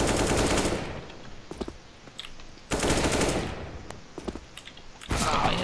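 Rapid automatic gunfire in the video game CS:GO comes in three loud bursts separated by quieter gaps with a few single shots and mechanical clicks.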